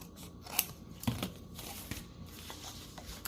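Scissors snipping a small piece of bathroom wallpaper, a few quiet, close cuts with soft paper crinkles between them in a calm room.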